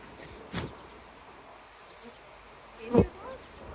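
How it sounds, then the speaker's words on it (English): A honeybee buzzes close by at a beehive, passing near the microphone in two short loud swells over faint background hiss. "it was a bee in my glove"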